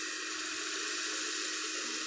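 Water goes into a pan of roasted chicken biryani ingredients, making a steady, bright hissing rush that lasts throughout, close and fairly loud with no talking.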